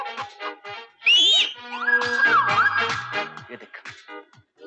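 A whistle is blown in a Hindi film scene, giving a couple of shrill, sliding tones amid lively talk from several voices.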